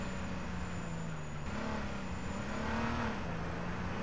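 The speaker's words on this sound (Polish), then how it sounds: "Dźwięk dziwnego fura." A car engine in the survival game H1Z1 drones with a steady, slightly wavering pitch, faint and somewhat noisy, without talking.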